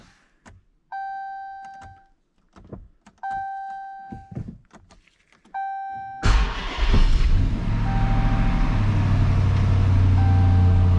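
A police car's engine cranks and fires at about six seconds, then settles into a steady, loud idle. Before that come three door-chime or warning-tone sequences with clicks. The car is a running project vehicle with some frame damage.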